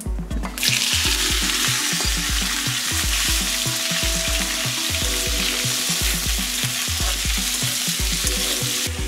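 Chopped raw jackfruit frying in hot oil with bay leaf, dried chillies, cardamom and cinnamon gives a loud, steady sizzle, with repeated stirring scrapes in a regular rhythm all the way through and no voices.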